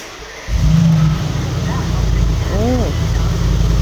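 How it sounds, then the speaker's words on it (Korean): A 2022 Mercedes-Benz G63 AMG engine fires up after half a second and settles into a loud, deep, steady rumbling idle, heard close from the cabin with a brief higher whine partway through. "지금 이거 시동을 한번 켜보고 싶은데 시동 키면 정말 너무 시끄럽습니다"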